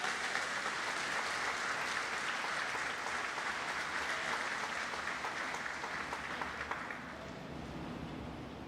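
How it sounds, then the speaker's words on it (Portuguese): A church congregation applauds during a sermon, a dense, loud and sustained wash of clapping from many hands that carries on steadily for about seven seconds, then eases slightly softer toward the end. "Você pode aplaudir ao Senhor bem forte."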